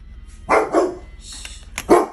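A dog barks three times close by, sharp and loud, with brief pauses between the barks.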